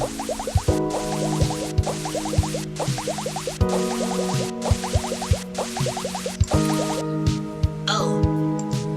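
Water refilling in the video game Read Only Memories 2064, a run of quick dripping, plopping game sound effects repeating rhythmically over steady background music, with speech also present.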